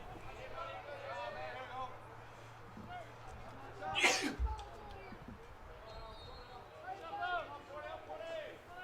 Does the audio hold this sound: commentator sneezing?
yes